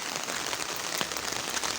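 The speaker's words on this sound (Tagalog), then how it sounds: "Ulan guys." Rain falling on surfaces outdoors, a steady dense hiss of drops with a few sharper patters, filling the short stretch without any voices.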